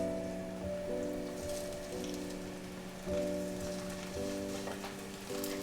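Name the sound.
tofu skin rolls frying in oil in a pan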